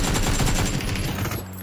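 Rapid automatic gunfire from the video game PUBG, a dense, loud, continuous burst of shots that stops abruptly near the end, with no voices.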